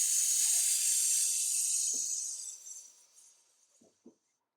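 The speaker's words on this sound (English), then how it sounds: "I went down one more time because the fixative wasn't really coming out very good" Aerosol fixative sprayed over a soft pastel painting outdoors: a steady close hiss for about two and a half seconds that fades out, followed by a few faint clicks.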